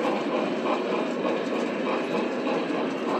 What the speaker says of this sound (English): for those of you who like multiple trains running at the same time